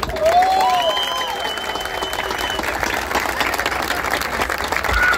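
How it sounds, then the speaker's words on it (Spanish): A neighborhood crowd applauds at the unveiling of a mural honoring a folk musician, a steady wash of clapping with a few scattered shouts and whistles rising over it. "se merece un gran aplauso para él."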